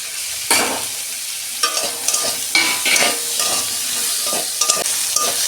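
Tomato, a large onion, garlic and ginger pieces frying in oil, a loud steady sizzle broken by repeated spatula scrapes and clanks against the pan.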